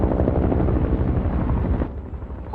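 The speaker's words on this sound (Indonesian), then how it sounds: "terdengar suara helikopter melintasi apartemennya." A helicopter flying over an apartment building: its rotor thumps loud and steady overhead, its heavy chopping filling the air before easing off slightly near the end.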